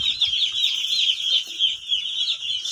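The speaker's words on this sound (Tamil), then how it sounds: "நிறைய கோழி சுற்றி இருக்குது." Many chickens roaming close by on a farm path, clucking and chattering continuously and fairly loudly with soft scuffing underneath, no one speaking.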